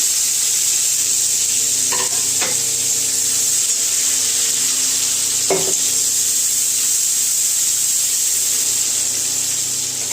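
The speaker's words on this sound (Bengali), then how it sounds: "পেঁয়াজটা হালকা লাল করে ভেজে নেব" Chopped onion frying in oil with black cumin (kalo jeera), a loud, even, continuous sizzle up close with a few brief stirring clicks, no voices.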